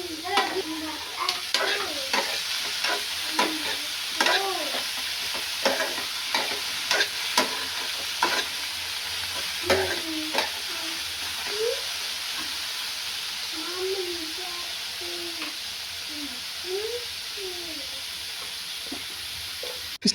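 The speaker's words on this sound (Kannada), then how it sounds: "ಹಾಗಲಕಾಯಿ ತುಂಬ ಚೆನ್ನಾಗಿ ಫ್ರೈ ಆಗಬೇಕು ಎಣ್ಣೆಯಲ್ಲಿ ಮಾತ್ರ" Bitter gourd slices fry in hot oil, a steady sizzle running throughout, broken by repeated scraping clinks as a spatula stirs them in the pan; no voices.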